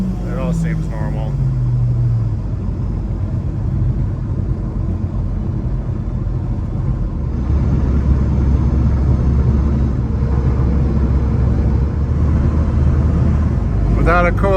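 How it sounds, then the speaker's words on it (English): Car with a rebuilt DCT 470 dual-clutch transmission making wide open throttle pulls, heard from inside the cabin as a loud, steady low engine and road rumble, with a voice over it. "So I like to do some wide open throttle pulls just to make sure we're okay here"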